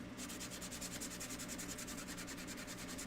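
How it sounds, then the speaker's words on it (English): Sandpaper rubbing over a small wooden craft egg, a continuous close rasping scrape in quick even strokes that runs the whole time with no voices. "grab our sandpaper here"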